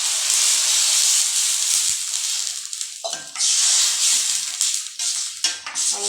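Water poured into a pan of Tamil red potato kurma, loud hissing and sizzling as it hits the hot pan, with brief stirring clatters and bursts of steam.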